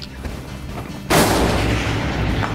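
A single loud gunshot fired at shooting targets on a range, a sharp blast that cuts in abruptly and leaves a long rolling echo.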